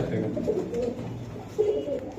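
Soft Pakistani Teddy and red Gorra pigeon coos sound twice, low and murmuring, against a steady background hum with faint voices nearby.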